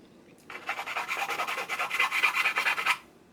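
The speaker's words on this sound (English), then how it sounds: "And then I'll finish it off with a small detail rasp file." A small detail rasp file smooths a plastic Amiga 500 computer case, making close, steady back-and-forth rasping strokes that run continuously for about two and a half seconds before stopping.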